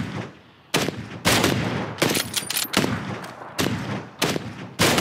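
Rapid bursts of video game gunfire in a shootout, loud sharp volleys repeating in clusters with brief gaps between them, no talk over the shots.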